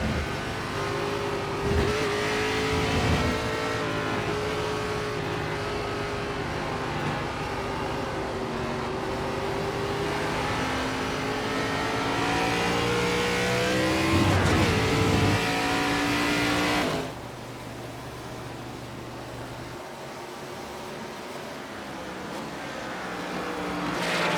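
A NASCAR ARCA Series race car engine in iRacing at Watkins Glen, loud and close, revving and shifting continuously with throttle feathered through a corner, pitch rising and falling, then dropping off sharply near the end.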